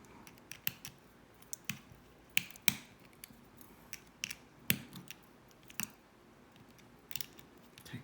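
A small screwdriver tightening screws on a Kensei 24 RTA vape atomizer, quiet sharp metallic clicks and ticks scattered irregularly over a faint background, close up.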